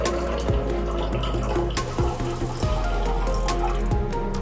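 Liquid dinoflagellate nutrient medium poured into a culture flask at night, a continuous close trickle and splash with a few small bumps of glass.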